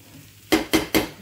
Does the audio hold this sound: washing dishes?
yes